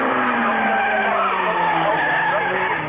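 Formula Ford race cars skid sideways at Thruxton with loud, sustained tyre scrub and engine whine across the whole stretch, while a commentator talks excitedly over the top.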